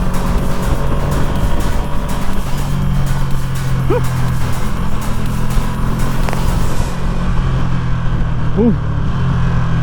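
Engine of a 2020 Ducati Panigale V2 motorcycle on a road ride, a constant loud rumble mixed with wind noise, while the rider lets out brief excited whoops.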